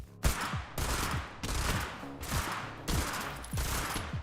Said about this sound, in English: FryG's minigun is singing a deadly tune.